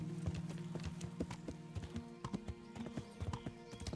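Horse hooves clip-clop steadily in Kingdom Come: Deliverance, a medieval role-playing game, with repeated sharp hoof strikes in a walking rhythm over a low ambient background and no talk.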